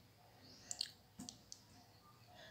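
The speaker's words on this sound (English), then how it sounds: "We will click on OK." A few faint, sharp clicks of a computer mouse in a quiet room, widely spaced single taps over a low background hum.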